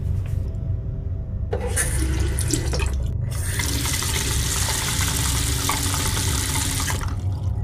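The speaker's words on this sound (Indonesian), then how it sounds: "Diikuti suara air yang dituang ke ember." Water pours steadily into a bucket at night behind a house where water is drawn, a continuous close splashing rush that swells after a brief pause and runs on without voices.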